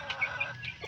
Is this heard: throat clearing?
no